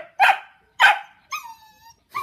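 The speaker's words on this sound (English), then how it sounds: "What are you barking at?" A dog barks twice in sharp, close bursts, then lets out a thin, wavering whine before another bark begins.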